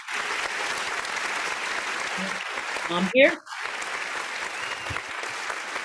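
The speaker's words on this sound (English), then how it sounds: "just a bunch of people clapping for you" Steady applause from a crowd of people clapping fills the whole stretch, with a voice speaking briefly partway through.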